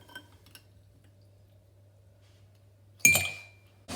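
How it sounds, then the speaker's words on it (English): Ice cube lifted out of a glass of water: a few faint clinks, then quiet, then one sharp, bright clink against the glass with a short ring. "is just remove the ice cube."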